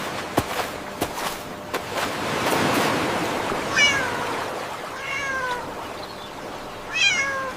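Several cartoon cat meows from a brown cat in an animated tale, rising and falling calls spaced across the clip over a soft, washing ambient background with a few sharp clicks at the start.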